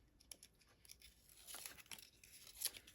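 Backing paper being peeled off adhesive for a ribbon or lace trim on a small plant box craft, heard as a quiet close-up run of crinkly tearing and rustling strips over about three seconds.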